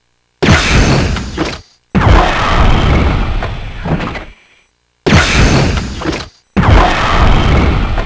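Freeze rounds fire in Resident Evil 3: Nemesis, four loud booming blasts, each with a long rumbling decay, spaced evenly with short silences between them.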